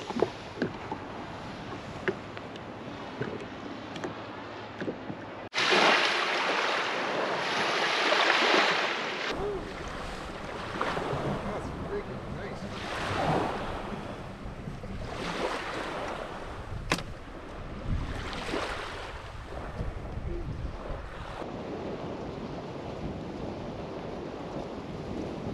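Waves break on the shore across a sandbar at Long Point, near a lighthouse, with wind in the trees: surging washes of surf rise and fall under a steady rushing background, fairly faint.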